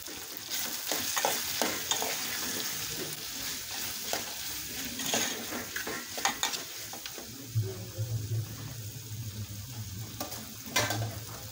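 Steady sizzling of beef frying in a pot, with occasional stirring clinks and scrapes, close and moderately loud, no voices.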